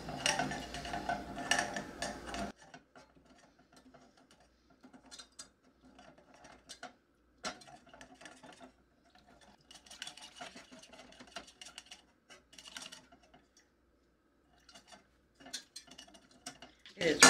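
Spoon scraping and knocking in a pan of homemade pudding with brown sugar stuck to the bottom, sparse irregular ticks and clinks close by, fairly quiet, after a louder opening burst.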